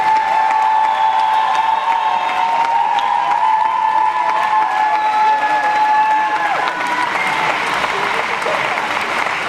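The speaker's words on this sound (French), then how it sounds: "On peut applaudir notre député." A crowd at a united-left municipal election rally in Brest applauds the deputy, with sustained, loud, dense clapping and some cheering that carries on steadily from start to finish.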